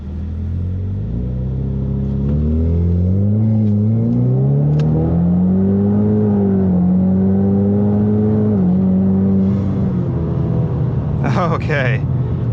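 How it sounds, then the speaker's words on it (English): Ford Mustang EcoBoost launching hard from a standstill: a loud, close engine note climbs steadily in pitch through the gears, with a brief dip at a shift before it pulls again, and a sharp high chirp near the end. "So it was a little slow getting off the line because I just kind of have to feather the throttle a lot."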